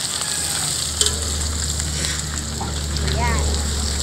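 Food sizzling and frying in a pan while being stirred, a constant crackling hiss with a few utensil scrapes and clinks, close and loud, with no talking.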